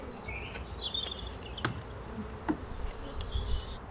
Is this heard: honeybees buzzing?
yes